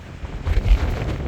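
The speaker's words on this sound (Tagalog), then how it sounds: "Napakalakas ng hangin kasi Pacific Ocean na pala yan." Strong gusting wind on the Pacific Ocean coast of Batanes buffets the microphone, a low rumbling roar that swells and fades over about a second, with no voices.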